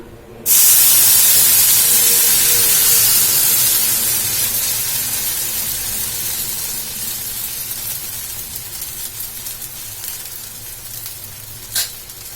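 Batter poured into a hot kadai with tempered cumin bursts into a loud, close sizzle that hisses steadily and slowly fades, with a brief clink near the end.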